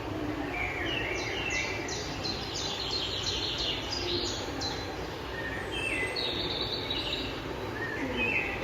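Small birds chirp and tweet in short, bright bursts over steady ambient background noise, with calls repeating irregularly across the clip, fairly faint and somewhat distant.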